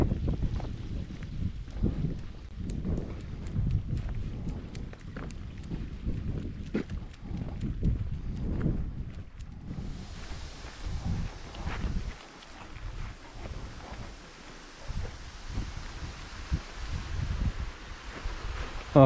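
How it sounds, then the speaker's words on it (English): Rushing water from a waterfall, heard outdoors in strong wind, as a steady broadband hiss that grows fuller partway through, with heavy wind buffeting the microphone throughout and no talking. "I can hear the waterfall, guys."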